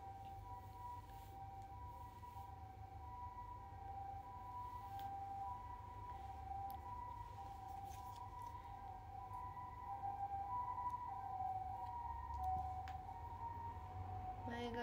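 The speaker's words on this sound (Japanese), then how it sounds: "ピーポーピーポー多いねここ本当に。" An emergency vehicle siren wails outside, a faint, steady two-tone pitch sustained throughout and heard from a distance indoors under low background noise, with a brief voice at times.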